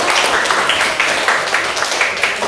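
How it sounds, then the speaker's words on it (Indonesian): Classmates in a classroom give a short burst of applause, a steady patter of many clapping hands at moderate loudness. "Kita kasih tepuk tangan dulu teman-teman."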